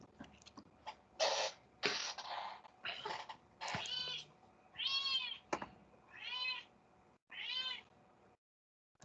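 A pet cat meows repeatedly nearby in a quiet room, about eight separate calls of varying pitch spaced a second or so apart, with no talk.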